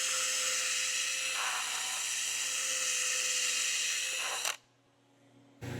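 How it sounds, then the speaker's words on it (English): A stainless steel wire wheel scrubs a 304 stainless steel pipe with a steady, loud, hissing high whine for about four seconds. It cuts off abruptly, leaving a quiet lull before the grinding briefly starts again. "Have a designated stainless steel wire wheel that you only use on stainless"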